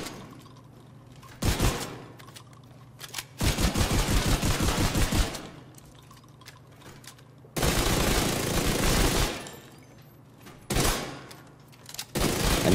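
Rapid automatic fire from the Ouroboros exotic SMG in The Division 2, loud close bursts of a few seconds each with short pauses between them.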